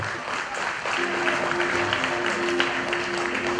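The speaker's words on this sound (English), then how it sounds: "A round of applause, ladies and gentlemen." A room full of people claps steadily, brisk applause with a faint sustained tone humming underneath.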